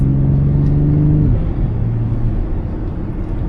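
A BMW X3 M40i exhaust drones loudly through a rev, then drops off with crackling burbles as the engine settles, close to the microphone.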